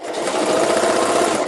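A sewing machine runs in one steady, continuous burst while stitching a small piece of a zippered tote bag, close and fairly loud with a fast, even motor whir and no talking.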